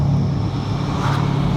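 C6 Corvette with valved exhaust holding a deep, steady droning rumble, loud and close, with no break across the short span.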